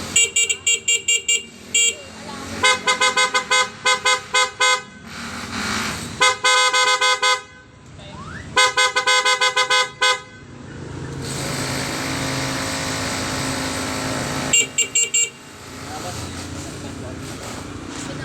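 A SENLO M1 LED dual contact horn fitted to a Honda Click 125i sounds in rapid repeated beeps and longer honks in several bursts, loud and close, with people talking in between.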